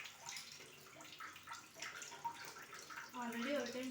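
Soaked rice being washed in water in a home kitchen, giving a close, continuous splashing and swishing with small rattles of grains.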